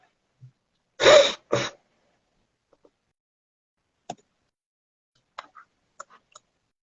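Two sneezes in quick succession, the first stronger, followed by scattered small clicks and faint mouth sounds in near silence.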